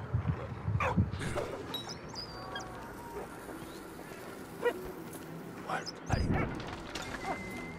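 A dog in a World War I trench in the video game Valiant Hearts barks in a few separate, fairly loud bursts over a quiet game ambience, with a brief voice heard as well.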